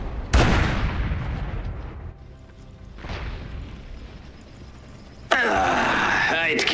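Battle sounds from the video game Iron Harvest: a heavy artillery boom, a second distant blast a few seconds later, then a sharp burst of crackling fire and debris, all loud and close.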